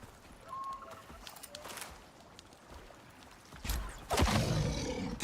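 A bear roars in the survival video game Icarus, a faint growl at first and then a louder, nearer roar near the end over quiet background game sound.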